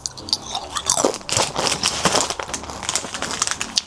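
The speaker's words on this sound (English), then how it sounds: "Chips, plantain chips." Plantain chips crunch loudly and close up in a series of crisp bites and chews, with bag crinkling mixed in.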